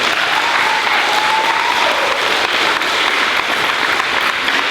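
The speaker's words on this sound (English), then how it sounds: "give them a nice round of applause" Dense, steady applause from an audience at a fifth-grade recognition day, many hands clapping at once in a loud, even wash with no pause.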